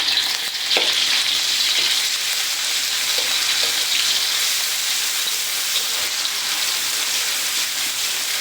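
Bay leaves frying in hot oil in a wok, heating before fish goes in: a steady, dense crackling sizzle that fills the whole stretch at an even loudness, with a few sharper pops and no voices.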